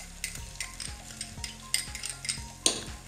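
Chopped onions sizzle in a hot pan while a spatula scrapes and taps through them in a quick, regular rhythm of strokes, close and fairly loud, with no voices.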